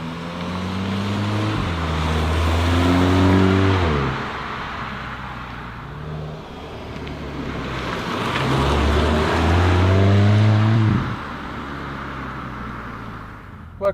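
A VW Golf 8 GTI accelerates hard in sports mode, its engine note climbing through the gears in two long surges with distinct upshifts, loud and steady from inside the car, with no talking.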